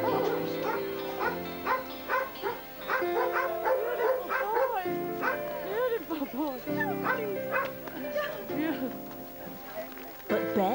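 Many dogs at a pet rescue barking, yipping and howling together, a dense overlapping chorus of yaps and drawn-out howls that continues steadily throughout, with voices speaking over it.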